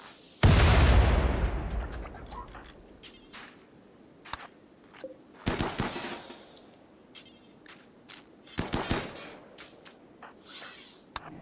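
A turret blowing up in a sci-fi ship video game: a loud, sudden explosion boom that decays over a couple of seconds, followed by several sharper bursts of blasts and gunfire, with no talking.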